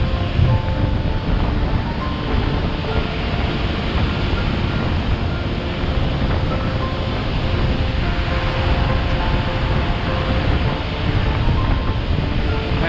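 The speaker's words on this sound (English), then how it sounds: "It's super windy." Strong wind roars across the microphone over steady crashing surf on a beach in Thailand, a constant loud rush with no pauses.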